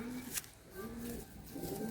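Andhra pigeons cooing nearby, soft low repeated coos in a loose rhythm, one brief sharp click, with no talking.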